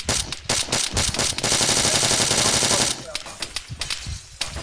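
Automatic weapon fire in the video game Arma 3, with sharp bursts at the start, then a sustained rapid stream of shots, then scattered single cracks. Voices talk faintly underneath.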